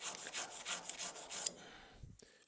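A curved scraper rubbed back and forth on a rough, oiled synthetic sharpening stone of a couple hundred grit, giving steady close rasping strokes that stop after a second and a half, leaving a few faint clicks.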